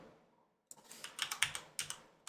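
Several sharp clicks come from keys pressed on a computer keyboard, close and fairly quiet, in a quick uneven burst after a brief silence.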